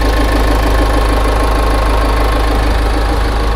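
A 2015 Jaguar XF 2.2 idles just after starting, its engine giving a loud, steady, close-up hum with an even low rumble and no talk over it.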